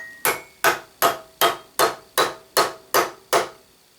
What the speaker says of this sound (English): I really don't like the idea of hammering while it's in the milling machine